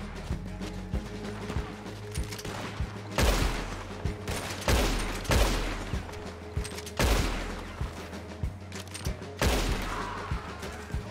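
Gunfire in the Western game Red Dead Online, a series of sharp, loud shots arriving in irregular bursts about every second or two, each with a booming tail over a steady low rumble and looping music.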